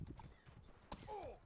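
Horses clip-clop and whinny during a battle in a competitive video game match, with a burst of hoofbeats and a whinny heard under game noise and faint talk.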